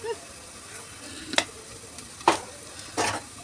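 A spiced winter-vegetable filling with coriander powder and salt for veg spring rolls is stirred in a pan: three distinct scraping strokes over a faint background sizzle.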